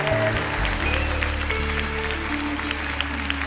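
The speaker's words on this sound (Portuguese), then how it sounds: "Aplauda forte a Jesus, que Ele é Deus." Congregation applauding at a church worship conference, continuous dense clapping from a large crowd over a low sustained music pad, with a faint voice beneath.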